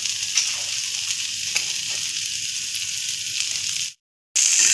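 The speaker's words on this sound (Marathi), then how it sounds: "हे पहा, भेंडी असं छान आपण परतून घेणार आहोत तेलात व्यवस्थित।" Okra (bhindi) frying and being sautéed in oil in a pan gives a bright, steady close sizzle that cuts out to brief silence near the end before resuming.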